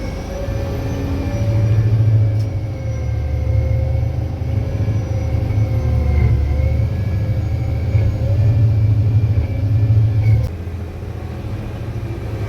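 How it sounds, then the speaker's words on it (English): Heavy earthmoving in a blizzard, with a Caterpillar 637 scraper and a D9G dozer filling a hole: a steady, loud diesel rumble and roar that swells and eases without a break, and no voices. "I'm filling a hole today with a scraper"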